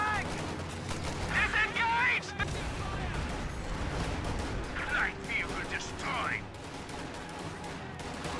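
Riflemen open fire on a Kubelwagen in a World War II-style video game, producing a scattered run of sharp gunshots and bursts over a busy battle din, with a voice speaking underneath.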